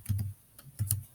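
On a Chromebook keyboard, a few quick soft key taps land close by in two small bursts, quiet and with no voices.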